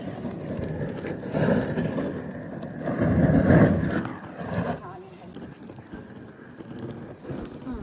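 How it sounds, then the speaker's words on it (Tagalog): Gusty wind buffeting the microphone in rising and falling bursts in Las Vegas, with people talking over it outdoors. "andito naman yung hangin"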